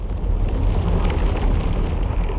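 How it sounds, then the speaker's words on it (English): A massive explosion of the kind that destroyed Pan Am Flight 103 over a town, heard as a dense, loud, continuous roaring rumble with heavy low-end weight that holds steady throughout. "it's actually the first signs of a massive explosion"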